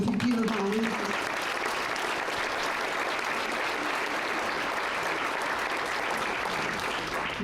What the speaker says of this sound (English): give another round of applause to David.